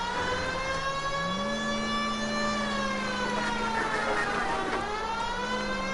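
Wailing siren from a video game vehicle rising and holding steady, loud and continuous with layered harmonic tones, no talking over it.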